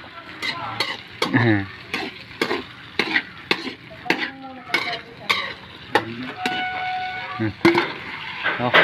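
Menudo being stirred in a cooking pot, with repeated rhythmic scrapes and knocks of a spoon against the metal over a bubbling sizzle, close and clear, with occasional quiet voices.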